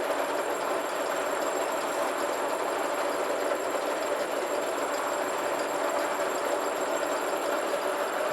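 Milling machine with a 150 mm metric face cutter spinning at 388 RPM, giving a steady, even mechanical hum and faint high whine throughout, without talk.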